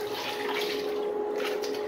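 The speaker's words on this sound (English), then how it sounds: "Now, dry bowl flush." A miniature 1989 Kohler Highcliff toilet is flushed with a dry bowl, giving a faint, continuous gurgling rush of water with a steady tonal hum underneath, brief and unbroken.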